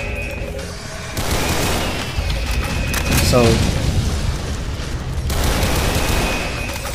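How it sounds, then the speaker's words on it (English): Gunfire and explosions in the Doom mod Project Brutality: heavy booming blasts and rapid bursts of shots in dense succession, loud and close, with someone briefly talking over the chaotic game combat. "fire, explosions,"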